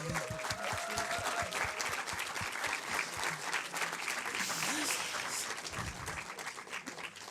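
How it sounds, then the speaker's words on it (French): A cinema audience at a film screening applauding the director, dense continuous clapping from a crowd held steady for several seconds, with faint voices underneath. "Je pense qu'on peut encore une fois l'applaudir"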